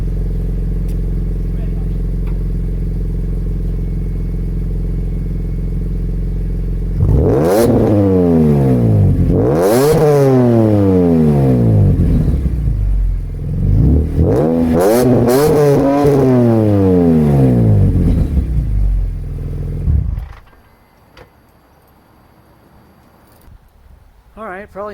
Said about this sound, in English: I'll rev it up so you guys can hear that in just a second